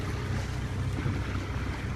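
Big waves slap and surge against a small boat out on open water, a dense roaring wash mixed with wind buffeting the microphone, continuous and loud throughout.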